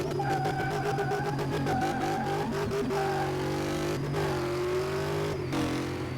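KITT, the Knight Rider car restored with race tyres in Car Mechanic Simulator 2018, revs and accelerates hard, a loud continuous engine tone climbing and shifting in pitch with no one talking over it.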